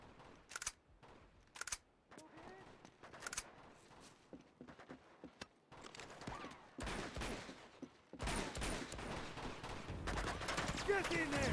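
Sporadic game gunfire from Uncharted 2, with scattered sharp shots early on that give way to denser, louder bursts of firing toward the end, with voices in the mix.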